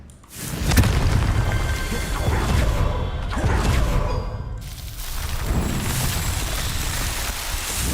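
A Confringo spell explosion in the Hogwarts Legacy video game erupts with a loud crashing burst, followed by a sustained rumbling blast and crackling debris that lingers at a steady level.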